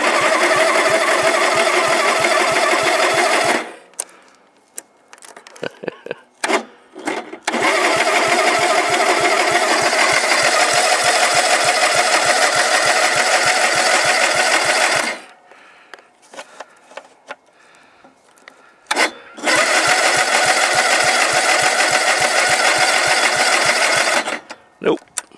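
John Deere engine cold-started on full choke cranks in long loud bursts of rapid, even starter pulses, broken by quiet gaps with a few scattered clicks, and never catches.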